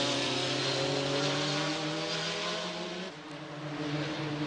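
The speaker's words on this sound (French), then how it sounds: "Et retour au stand pour une autre Venturi, celle de Maury-la-Rivière" A Venturi race car at Le Mans in 1994 drones steadily as it returns to the pits, a loud continuous engine note that dips briefly then picks back up, heard alone without talk.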